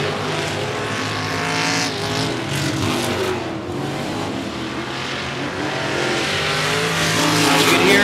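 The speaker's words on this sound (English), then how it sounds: "You can hear Bartlett throttle down the front stretch." A race car throttles hard down the front stretch of an oval speedway during a regular race program, its engine roaring loud and steady with rising revs toward the end and a sustained, continuous drone.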